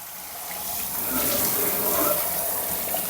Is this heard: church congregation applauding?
no